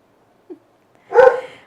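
A single indoor dog gives one short, sharp bark after a faint earlier yelp, close and alone against a quiet room.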